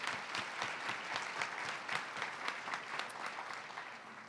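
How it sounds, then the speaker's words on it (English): Applause from the audience at a school district State of the District event, a continuous, even patter of many hands clapping, heard faintly as if from a distance, with no talk over it. "Let's also have a round of applause for Richard for facilitating."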